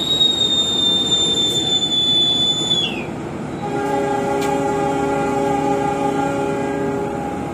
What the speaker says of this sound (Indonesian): kereta api Bima berangkat kembali dari stasiun Buaran